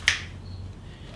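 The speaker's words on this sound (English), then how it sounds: "you snap your fingers and everything gets clean" A single crisp finger snap, sharp and close, followed by quiet room tone.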